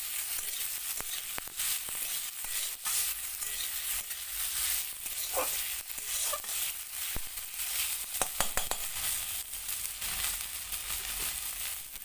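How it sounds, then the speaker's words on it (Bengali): Chopped tomato and vegetables fry in a pan while being stirred, giving a steady, close sizzle broken by sharp scraping and clicking strokes. "এবারে নাড়াতে থাকবো।"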